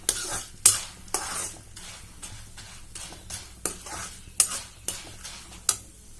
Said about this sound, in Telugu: బ్రౌన్ కలర్లో వచ్చేంత వరకు వేయించాలి.